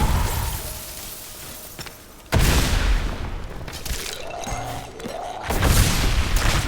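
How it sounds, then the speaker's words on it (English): Grenades exploding in Diablo 3 during Demon Hunter gameplay. Heavy booming bursts hit at intervals with shattering, crackling debris over layered game effects and music. "Good idea to use these grenades, see how they are"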